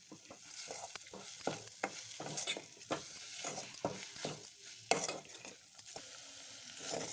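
Paneer kababs frying in a pan, a faint, close crackling sizzle broken by frequent sharp pops and light stirring clicks, with no talk.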